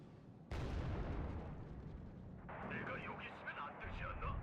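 A long-range missile shot fired in a video game at a nearby vehicle: one sudden loud blast, followed by a sustained rumbling roar with a busier, crackling texture toward the end.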